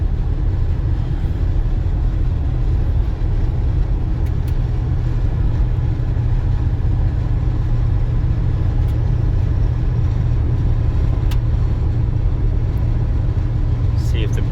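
A Dodge Power Ram 150 pickup truck, run after sitting for five years, cruises steadily with a continuous low engine and road rumble at a constant level throughout.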